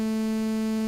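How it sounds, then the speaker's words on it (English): A steady analog oscillator sawtooth tone buzzes continuously at a single low pitch, bright and rich, sounding alone at constant loudness for the whole moment. "That's a sawtooth wave."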